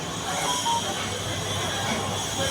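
Inside Mumbai Central railway station, a steady wash of broad, hissing station noise fills the space, with distant rumble and murmur but no single distinct event.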